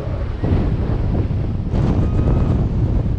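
Strong wind buffeting the microphone at height on a theme park ride, a loud, continuous roar that surges and rumbles for the whole stretch with no talking.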